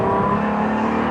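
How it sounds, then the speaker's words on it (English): Pagani Utopia V12 supercar engine revving with an angry, howling tone, loud and close, a steady sustained drone with strong harmonics and no voices. "you can hear that engine sound"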